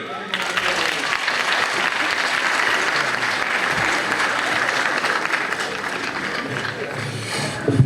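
A festival crowd applauds as a kobzar singer and bard is introduced on stage, dense sustained clapping filling the whole stretch at an even, fairly loud level.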